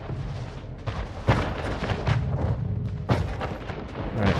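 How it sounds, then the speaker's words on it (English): Cannon fire in the strategy video game Anno 1800, a dense run of booming blasts and crackling bursts, with louder reports near the start and again toward the end over continuous battle rumble. "Oh, that's just cannons."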